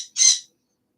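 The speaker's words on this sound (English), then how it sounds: "This is my bird." A pet bird gives a single short, bright squawk-like call, close and clear, followed by silence.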